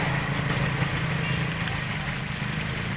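A Toyota Vios engine idles during an ignition diagnosis for a loss-of-power fault, a steady mid-low hum with a slight uneven pulse that stays constant and fairly close.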